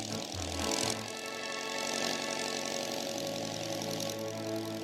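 Engines on a cartoon aircraft sputter to life and settle into a steady mechanical drone with a knocking, idling quality. The sound is moderately loud and continuous, backed by music.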